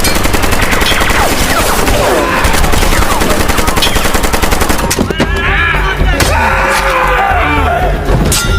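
Movie scene of men attacking a church and trying to shoot a priest: loud bursts of gunfire, rapid automatic volleys and single shots with impacts and crashes, dense and continuous under a dramatic soundtrack.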